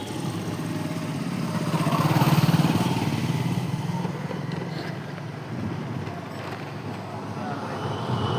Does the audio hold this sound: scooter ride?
yes